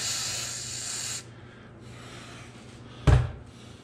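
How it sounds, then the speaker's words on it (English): A WD-40 aerosol can lets out a single close hiss of about a second, followed by near quiet and then one sharp knock. "More WD-40?"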